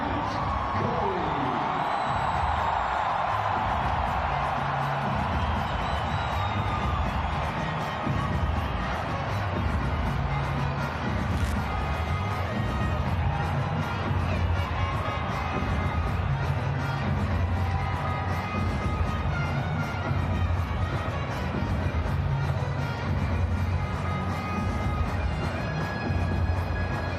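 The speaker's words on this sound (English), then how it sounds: "Well, a huge cheer" A packed cricket stadium crowd roars steadily for Virat Kohli during India versus Netherlands in 2022, a dense, sustained wash of cheering and whoops that stays loud throughout, with faint commentary beneath.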